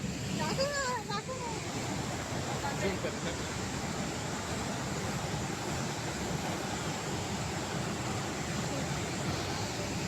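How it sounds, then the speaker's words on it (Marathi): A waterfall at Someshwar gives a constant, broad rushing roar mixed with wind buffeting the microphone, while a voice rises briefly near the start. "तुम्ही पाहू शकता आता धबधबा."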